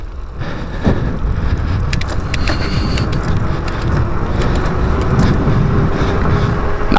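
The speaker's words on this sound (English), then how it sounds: "I will give it throttle and pretty much everything I've got with my feet" Lacros Cyclone eBike pulling away at full throttle with hard pedalling, a steady electric drive whine carried under loud rushing wind and road noise that holds constant throughout.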